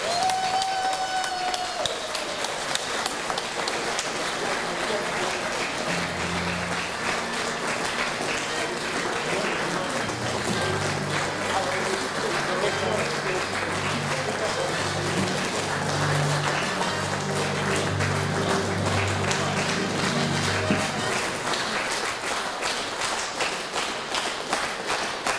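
Sustained applause from a crowd greeting the first-place winner at an awards ceremony: dense, even clapping that carries on steadily for about twenty-five seconds, with a faint low tone underneath in the middle stretch.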